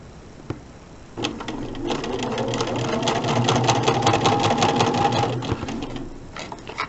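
A sewing machine runs over a quilt block seam, starting after a brief click and settling into a steady, close, rhythmic whir that fades out near the end.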